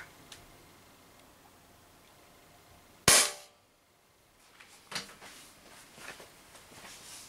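Umarex HDP50 air pistol firing a single sharp shot on an HPA adapter, a loud crack standing alone after quiet, followed by faint handling clicks.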